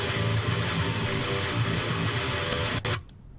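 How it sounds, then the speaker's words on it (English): Heavily distorted electric guitar through a neural amp model of a Custom Audio Amplifiers rig, played raw without blending, chugging thick chords continuously at full volume before cutting off abruptly near the end. "this is a neural amp model of my custom audio amplifiers raw"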